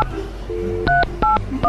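Telephone keypad tones beep in a quick sequence of short, loud, close dual-tone presses, with faint background sounds and no talking.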